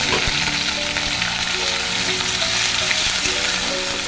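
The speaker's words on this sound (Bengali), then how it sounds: "এবার এখানে যে পেঁয়াজটা ভাজতে দিয়েছি দিয়ে দিচ্ছি এখন রসুন" Onion fries in a pan with garlic paste stirred in, giving a loud, constant, close sizzle and crackle with light stirring scrapes and no talking.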